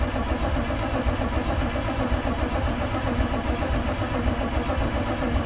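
A starter motor cranks a 327 engine in a 1935 Ford hot rod, a steady, dense churning drone that stays loud and unbroken throughout.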